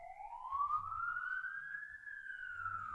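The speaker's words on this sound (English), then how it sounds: "As the sirens come through the center of Gardner." A wailing emergency siren sweeps slowly up and down as it passes through the center of Gardner, steady and moderately distant, with low traffic rumble beneath.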